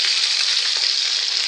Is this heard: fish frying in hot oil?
yes